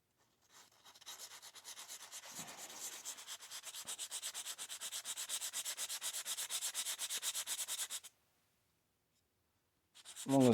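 Sandpaper rubs putty on an Aurora slot car body in steady, quick back-and-forth strokes, close and soft. The strokes build over several seconds, then stop, followed by silence.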